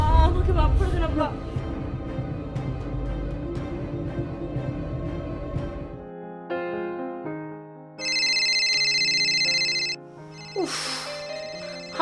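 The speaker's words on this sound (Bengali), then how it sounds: "আবার এই টাইমটাতেই ফোন দিতে হলো" A mobile phone rings with a melodic electronic ringtone that repeats in bright tonal bursts, first over music and background voices in a Bangla drama scene, then almost alone.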